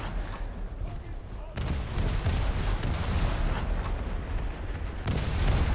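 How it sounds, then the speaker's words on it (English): Naval guns on the frigate HMS Leopard (F14) fire a ripple salvo in War Thunder, a dense, continuous barrage of booms that swells and pauses with only brief breaks. "Put some ripple fire in here, try and get this guy out of our crosshairs"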